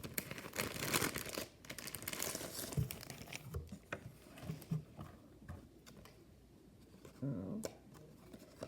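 A plastic-wrapped stationery pack holding a pencil and sticker sheets is torn open up close, with steady crinkling and rustling of the plastic and a few sharper tearing and tapping handling noises.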